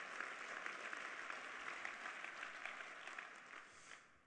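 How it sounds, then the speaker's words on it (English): A luncheon audience at the 30th-anniversary Leadership Knoxville event applauds the staff and Tammy, a soft, even wash of many hands clapping at a distance that gradually fades. "How about one more round of applause for the staff and Tammy?"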